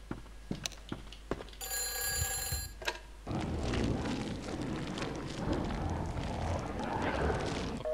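An old telephone rings in the Silent Hill Alchemilla demo video game, a bright metallic bell burst lasting about a second, then giving way to a dense, droning, rumbling ambient noise that fills the rest.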